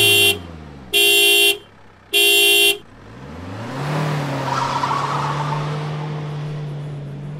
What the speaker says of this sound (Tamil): உங்களை எல்லாம் கொஞ்சம் தள்ளி நிற்கிறக்காகத்தான் ஹார்ன் அடித்தேன்